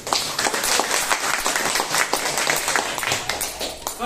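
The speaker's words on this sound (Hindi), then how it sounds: "जोरदार ताली बजाओ" A classroom audience of students claps loudly and steadily in a dense, close burst of applause that lasts a few seconds before it begins to thin out.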